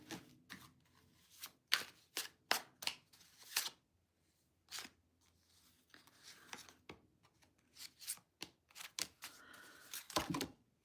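Tarot cards riffled and shuffled in repeated bursts of crisp, papery flicking, close up, with brief pauses between rounds and no talking.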